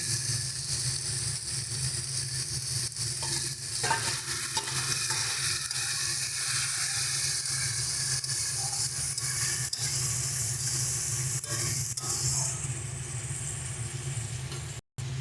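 Taro and prawn curry sizzles continuously in a pan while a utensil stirs and scrapes through it, steady and close for the whole stretch with no talk.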